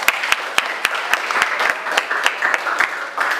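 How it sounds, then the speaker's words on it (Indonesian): Classroom students clap together in steady, loud applause, with sharp individual claps repeating throughout. "Oke, bagus, tepuk tangan."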